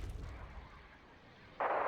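Heavy artillery fire in the strategy game Wargame: Red Dragon, with a muffled rumbling boom followed by a sudden loud, bright blast near the end, with no talking.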